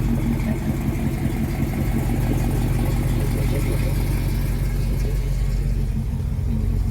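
A 1972 Buick Skylark Sun Coupe with a 396 big block engine and Turbo 400 transmission cruising along, a deep steady rumbling engine drone heard continuously and close throughout, with no talking.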